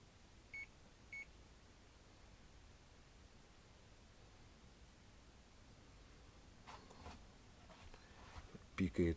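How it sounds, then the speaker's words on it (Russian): A power inverter on a converted wind turbine system gives two short, faint beeps early on, over a steady hiss, and a few louder knocks and rustles come near the end. "Пикает инвертор"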